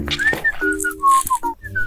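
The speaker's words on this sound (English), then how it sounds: "Who's that kid that's whistling?" Someone whistles a short, wavering tune, thin and fairly close, with light clicking and rattling sounds underneath.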